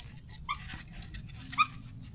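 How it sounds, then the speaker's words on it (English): A dog tied up on a homestead in the Philippines whimpers in a few short, high-pitched whines, fairly close, with faint background noise and no talking. "Roxy is making noise because Kuya Christian tied her."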